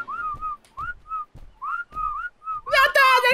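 A person whistles a series of short, wavering melodic phrases with brief pauses between them, close and fairly loud, during a playful prehistoric survival game session; voices then talk and laugh over it near the end.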